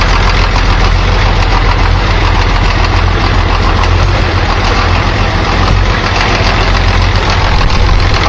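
An old Farmall or Case diesel tractor engine runs after a glow-plug start, a loud, close, steady rumbling idle with knocking texture that fills every moment without any voices.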